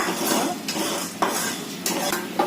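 Sabudana (sago pearls) dry-roasting in a pan, a continuous rustling scrape and light sizzle as a spoon stirs the pearls, with a few sharper utensil knocks against the pan; no talking.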